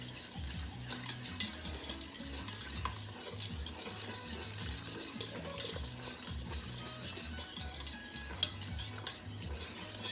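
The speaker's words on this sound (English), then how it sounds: "So I'm gonna whisk a little bit more. Make sure it's nice and thick." A thick paste for shrimp and crab bisque being whisked in a pot, a soft continuous scraping and stirring with faint clinks of the whisk against metal, fairly quiet and close, without talking.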